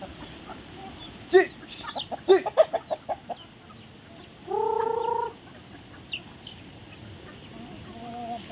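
Chickens cluck in short bursts, a quick run of clucks followed by a longer drawn-out call, with quieter hen sounds afterward in a calm setting.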